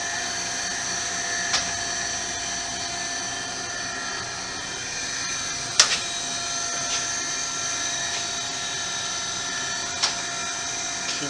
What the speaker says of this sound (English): Start it up here.